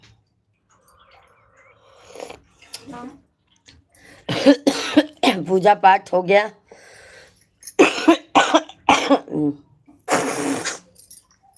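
A man on a live stream coughs in several harsh, throaty bursts, loud and close, between short stretches of his own talk.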